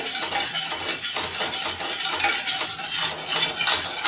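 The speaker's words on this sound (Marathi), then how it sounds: "दूध हलवत आपल्याला हे कंडेन्स्ड मिल्क त्याच्यामध्ये घालून घ्यायचे" Warm milk stirred in a pot as condensed milk is poured in, making steady scraping and clinking strokes of a spoon against the vessel, close and continuous, with no talking.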